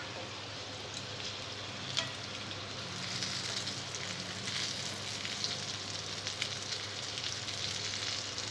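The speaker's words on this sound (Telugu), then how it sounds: "ఇలా సిమ్లో దొండకాయని 2 వైపులా బాగా ఫ్రై అయ్యేలా ఫ్రై" Stuffed ivy gourds (dondakaya) frying in oil on a low flame, a steady close sizzle and crackle with small spits throughout, no voices.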